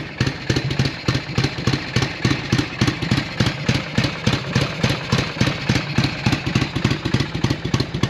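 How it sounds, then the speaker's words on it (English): A 1978 Harley-Davidson Shovelhead motorcycle engine idles close by with a loud, uneven, loping potato-potato beat of rapid regular pulses throughout. "Well, that's the last time I'm going to start that bike up."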